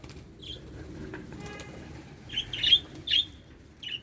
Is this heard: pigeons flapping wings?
yes